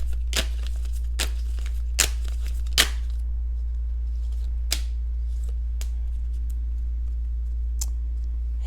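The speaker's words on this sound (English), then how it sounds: "I'm going to shuffle the way I usually do" An oracle card deck is shuffled by hand, giving a run of sharp riffling snaps and softer card slides close up, over a low steady hum.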